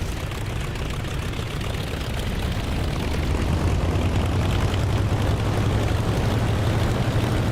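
Propeller aircraft engine droning steadily in a DCS flight simulator as a plane readies for takeoff, a continuous, even engine roar with a low hum that builds slightly over the stretch.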